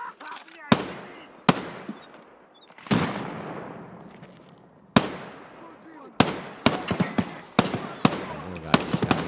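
Grenades and gunfire in the video game Escape From Tarkov go off as sharp explosive bursts with long, ringing decays, followed by quicker clustered cracks toward the end.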